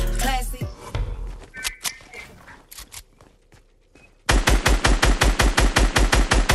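Fortnite gunfire: scattered shots and impacts at first, then after a quiet gap a loud, rapid burst of evenly spaced automatic fire fills the end.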